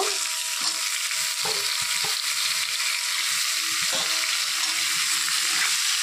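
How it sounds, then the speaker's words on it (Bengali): Potatoes and ridge gourd fry in a pan with a steady, close sizzle throughout, broken by a few sharp clacks of a utensil stirring. "তো আলুগুলো একটু ভাজা ভাজা হয়ে এসে এখন আমি এর মধ্যে ঝিঙেগুলো দিয়ে দেব।"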